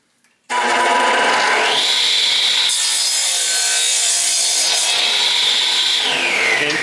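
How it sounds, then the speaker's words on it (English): A radial arm saw cuts through a wood board in a workshop. The blade bites in with a sudden loud whine and rasps steadily through the cut, up close. "So let's cut this on the radial arm."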